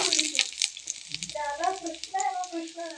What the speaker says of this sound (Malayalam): നല്ലപോലെ ഒന്ന് വഴറ്റി കൊടുക്കാം ഇഞ്ചിയുടെ പച്ചമണം മാറുന്ന വരെ